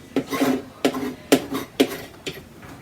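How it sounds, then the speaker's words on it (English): Hardened cold wax being scraped across a painting, five rough rasping strokes in a steady rhythm, close and fairly loud with short pauses between them. "It's not scraping nearly as easy as what it was because it's a lot harder."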